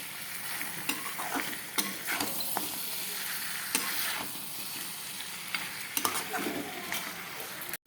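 Meat is stir-fried in a pan until it turns a deep red, sizzling steadily with scraping stirs and occasional sharp utensil knocks against the pan, no voices.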